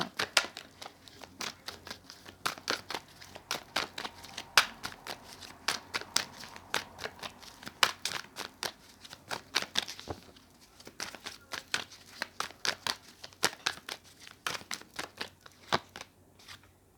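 Tarot cards being shuffled by hand, a dense run of crisp riffling flaps and soft slaps continuing for the whole stretch at close range, with no talking over it.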